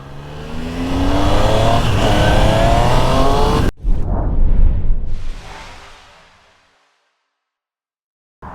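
Triumph Tiger Sport 800 motorcycle pulling away, engine loud and close as it climbs through the gears, a brief cut, then a fresh roar that fades quickly into the distance and leaves near silence.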